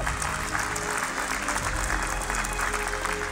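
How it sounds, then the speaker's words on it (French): Audience applause at a French presentation about building products, dense and steady across the whole stretch, loud and close with no pauses. "Applaudissements pour les produits bâtiments."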